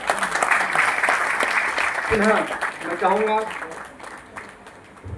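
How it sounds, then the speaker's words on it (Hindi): At a film poster and song launch event in New Delhi, an audience applauds steadily while someone speaks over the clapping, which fades toward the end. "भगत सैनी सर के लिए तालियों की गड़गड़ाहट रुकनी नहीं चाहिए"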